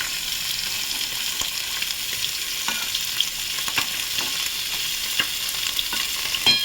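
Hilsa fish curry with black cumin bubbling and sizzling in a pan, a continuous, even simmer with small pops, close and moderately loud, no talking.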